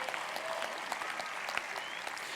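A high school graduation audience claps and cheers, a dense spread of hand claps with scattered whoops, fairly distant and moderately quiet throughout.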